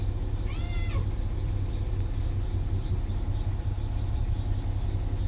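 A single cat meows once near the start at a bus parking area by grassy ground, with a steady low rumble of traffic or an engine running underneath throughout.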